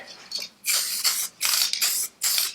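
Short bursts of spray paint hiss from an aerosol can dusting wheel silver onto a Citroën 2CV engine part, four or five loud, close sprays separated by brief pauses, no talking.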